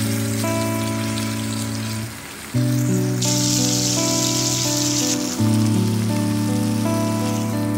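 Ooli fish frying in a pan gives a steady hiss of oil sizzling under sustained background music tones.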